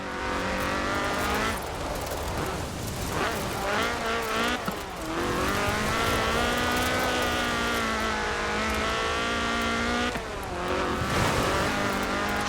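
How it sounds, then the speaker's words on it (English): A Ford RS 1800 rally car with a fuel-injected 1790cc Cosworth BDE engine, in Forza Horizon 4, drones loudly and steadily, its revs climbing and dipping through gear changes with brief drops near the middle and end. "a car designed explicitly for rallying, with a powerful fuel-injected 1790cc Cosworth BDE engine"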